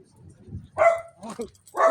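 A dog barks a few sharp times nearby, with a low growl before the barks.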